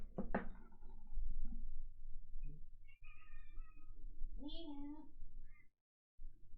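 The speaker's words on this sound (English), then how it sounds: "she lets a big old meow out at the very last possible moment" A house cat gives a single short meow near the end, quiet and close, among sounds of someone moving around and brief human vocal noises, with a sudden silence just after.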